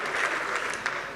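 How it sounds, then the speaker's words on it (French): An audience claps in a short burst of dense applause at a French sports and management talk event, loud and even throughout the brief moment. "Vous l'applaudissez encore bien fort."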